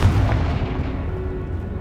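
A Confringo fire spell blasts in Hogwarts Legacy, a loud booming burst with a rumbling, decaying tail over nearly two seconds.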